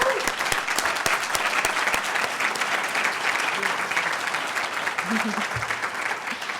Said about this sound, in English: I want to really recognize you with a big round of applause.